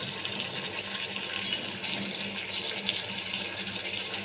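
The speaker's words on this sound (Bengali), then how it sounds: "জল দিয়ে দিচ্ছি।" Water pours steadily into a cooking pot of spiced hilsa fish curry with mustard paste and green chilies, a soft continuous gushing splash lasting a few seconds, fairly quiet and alone.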